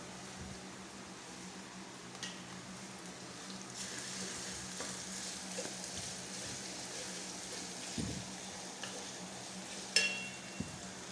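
Garlic sautéing with onions in a pan gives a soft, steady sizzle at low level, broken by a few faint clicks and scrapes of stirring.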